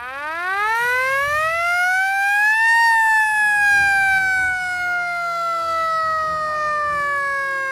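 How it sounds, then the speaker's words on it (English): An old original World War II era jeep siren winds up in a rising wail to a peak, then slowly drops in pitch as it sustains, loud and close with a faint rumble underneath. "This is an old original siren."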